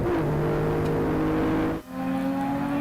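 Onboard a BMW race car lapping Kyalami circuit: steady, loud engine drone with sustained harmonic tones, briefly dipping near the end as the driver lifts or shifts, then rising again at a higher pitch.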